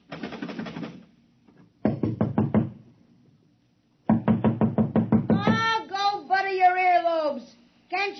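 Knocking on a door in an old radio drama, quick bursts of hard raps repeated several times, loud and close, with voices speaking between and over the later knocks.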